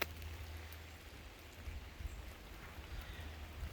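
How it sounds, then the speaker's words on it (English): Heavy rain pours outdoors at Treverbyn near Bugle, St Austell, making a steady, dense hiss with scattered drop patter and no pauses. "the rain's coming in hard now"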